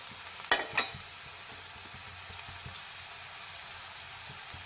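Chopped onion frying in a pan for begun bhorta, a soft continuous sizzle with two sharp utensil clinks early on and faint stirring scrapes afterward.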